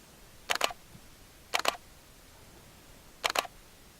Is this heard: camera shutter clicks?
yes